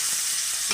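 Chopped tomato frying in a pan for egg curry, a steady soft sizzle with light stirring, close and even over a short moment with no talk.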